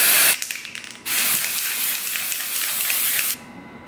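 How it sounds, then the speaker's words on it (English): A spray can blasts white face paint in a short burst, then a longer steady hiss of about two seconds that cuts off abruptly, loud and close. "We need to spray ourselves white because Pennywise is white."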